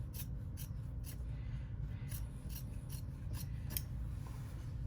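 Scissors trimming the fabric seam allowance of a sewn bag to about a quarter inch, heard as a series of soft, quick rasping snips over a steady low background hum, with no talking.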